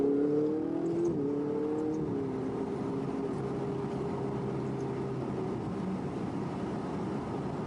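A car engine on a road driving course revs and accelerates, its pitch rising then settling into a steady drone with road roar, loud and close, with no talk.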